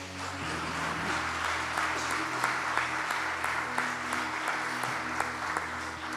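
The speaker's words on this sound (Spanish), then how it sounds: "Den un aplauso a esta palabra." A church congregation applauding after a sermon passage, sustained and fairly loud clapping from many people, with a low organ or keyboard chord droning beneath it throughout.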